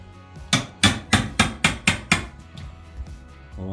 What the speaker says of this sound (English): But you've got the chisel right down in there.